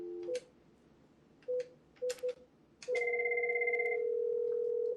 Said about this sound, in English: I'm going to enter the number.